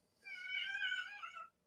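A pet cat named Bandit lets out one drawn-out, moderately loud meow close by, rising and wavering for over a second before trailing off, with no talking over it.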